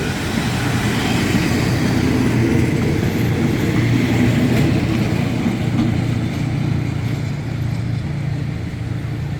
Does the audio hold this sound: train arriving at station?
yes